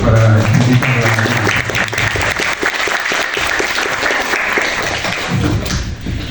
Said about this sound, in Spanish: Un aplauso fuerte para invitarla.